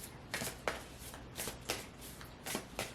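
Tarot cards are shuffled close up in quiet, soft riffling bursts, about six quick brushes spaced through the short stretch.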